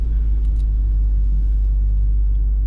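A car fitted with new tyres drives along beach sand, producing a loud, steady low engine and road rumble from inside the cabin, with no voices.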